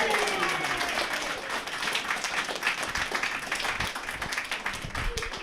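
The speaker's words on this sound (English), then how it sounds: "Can we start, please, with a round of applause for your parents and grandparents" Audience applause at an awards ceremony for a cycling club, a dense, steady round of clapping filling the room with a few voices mixed in.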